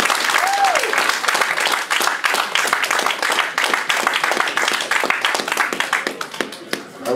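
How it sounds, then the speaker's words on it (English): A comic-con Q&A audience claps to welcome a guest, sharp individual hand claps close by within a steady round of applause that tapers off near the end. "Can we have a round of applause, please?"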